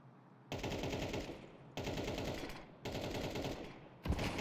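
Rapid gunfire in Counter-Strike 2 on the Overpass map, sustained loud bursts of repeated shots in three long runs broken by short gaps, with no talk over it.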